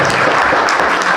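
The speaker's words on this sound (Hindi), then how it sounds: "रविंद्र सर के लिए जोरदार तालियां।" A brief, dense burst of audience clapping fills the hall at a government job award function, loud and even throughout.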